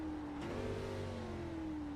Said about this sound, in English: oh yeah, you hear the engine, the woo.